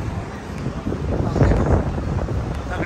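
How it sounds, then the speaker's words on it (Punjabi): Wind blowing outdoors in downtown Toronto, a rough continuous rumble buffeting the microphone, loudest in the middle. "ਹਵਾ ਚੱਲ ਰਹੀ ਆ"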